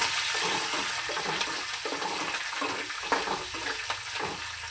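Garlic and green chillies fry in oil alongside peanuts and chana dal, giving a steady close sizzle with a bright hiss and faint stirring clicks throughout.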